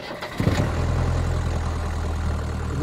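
A hotwired car engine cranks briefly and catches, then settles into a steady, rumbling idle, loud and close, with no voices.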